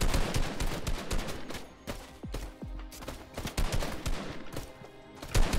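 Repeated pistol shots in a pistols-only video game match, a rapid, uneven run of loud close cracks carrying on throughout with no pauses.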